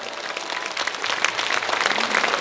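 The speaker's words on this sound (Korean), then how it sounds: "함께 한번 영광의 박수 올려드릴까요?" Applause from a church congregation fills the space, a steady, dense wash of many hands clapping at once, sustained and fairly loud throughout with no voices standing out.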